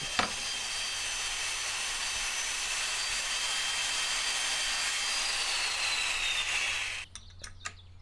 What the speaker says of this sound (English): I'm going to put it on the saw and cut my clearance slot